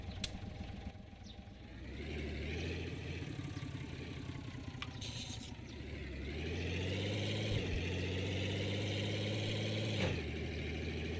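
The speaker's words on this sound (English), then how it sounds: "you see how much faster we take off with this engine?" A truck engine in a trucking video game revs up and pulls away, a steady mid-pitched drone climbing through gears with a brief dip and rising again, loud and close, no voices.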